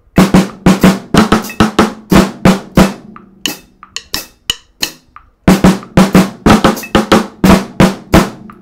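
A snare drum solo pattern of loud, crisp strokes in rapid rhythmic groups includes flams and sharp stick shots, with a quieter, sparser section of clicks midway before the full drumming returns.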